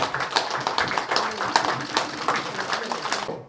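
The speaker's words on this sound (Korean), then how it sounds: "박수 한번 부탁드립니다." A room of party members at a Korean political party's welcoming ceremony for new recruits claps steadily, the applause moderately loud and close, with voices mixed in, before it cuts off abruptly at the end.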